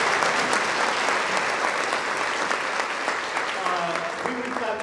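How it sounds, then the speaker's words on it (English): Dense audience applause at a fall choir concert, steady and loud for the full stretch, with some voices and whoops rising near the end. "Please give yourselves a round of applause"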